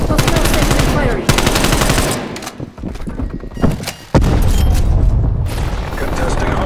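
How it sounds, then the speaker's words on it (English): A hostile sentry turret fires in Call of Duty: Black Ops Cold War multiplayer, loud rapid automatic bursts with booming impacts, a brief lull in the middle, then sustained gunfire resuming. "Hostile sentry firing."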